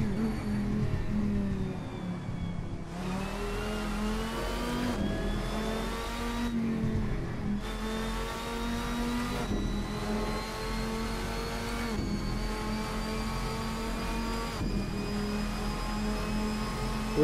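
A Viper sports car engine in the racing game Assetto Corsa revs loudly in repeated rising pulls, its pitch climbing then dropping as it shifts through gears, with no talking.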